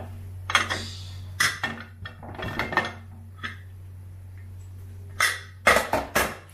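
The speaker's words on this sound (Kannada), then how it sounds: "ಓಪನ್ ಮಾಡ್ತಾ ಇದ್ದೀನಿ ಇವಾಗ." A pressure cooker that has cooled after cooking tomato rice is opened, with clustered metal clinks, clatters and scrapes of the lid and pot, close up, in short bursts over a steady low hum.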